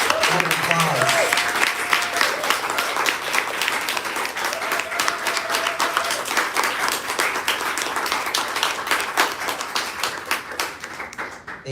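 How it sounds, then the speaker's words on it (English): Audience applauding panelists at the close of a conversation event, sustained clapping from a seated crowd with a few brief voices and cheers mixed in, steady then tapering at the end. "Let's give our panelists a round of applause."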